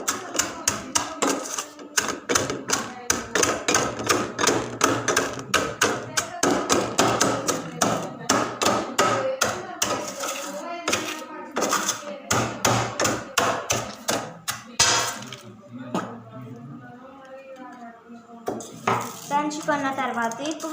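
Spices pounded into powder with a pestle, a rapid run of sharp, loud thuds and knocks in steady rhythm, pausing briefly before more scattered strikes near the end.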